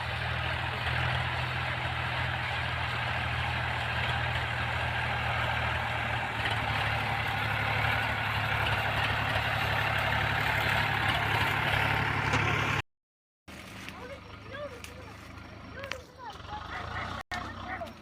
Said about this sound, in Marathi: ट्रॅक्टर निघाले आपापल्या मार्गी